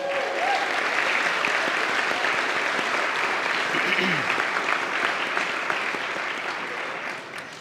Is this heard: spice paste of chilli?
no